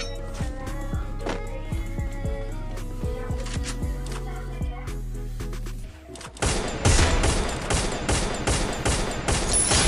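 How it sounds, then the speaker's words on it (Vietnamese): Gunfire between two teams in a survival-mode ranked video game match: after steady game music, a dense, loud burst of rapid shots erupts close by for the last few seconds. "Hai team muốn bắn nhau vậy nè."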